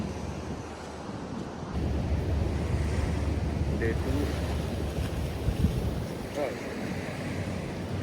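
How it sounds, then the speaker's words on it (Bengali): Open sea in the Maldives heard from a boat on a morning outing: a steady wash of waves and water with gusty wind buffeting the microphone, continuous and fairly loud with no voices. "সকালবেলার ওয়েদার, সমুদ্রের সাউন্ড এগুলো শোনার জন্য"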